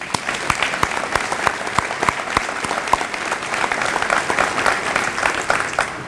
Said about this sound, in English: let's finally give them a round of applause